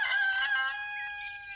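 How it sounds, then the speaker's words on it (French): Rooster crowing nearby, a single loud drawn-out cock-a-doodle-doo call holding a bright, strained tone that tapers off, heard alone without talking. "Là on a le chant du coq qui s'exprime."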